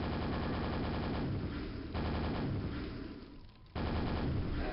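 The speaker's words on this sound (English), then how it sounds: "I was actually watching the shots come in there and seeing if I could avoid them correctly." Incoming enemy fire in the video game Quake, a loud, dense burst of rapid gunshots and explosive rattling that fills the whole stretch, briefly dipping before surging back.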